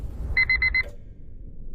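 An alarm clock goes off with four quick, evenly spaced electronic beeps over a low background hum, fairly soft, then falls silent.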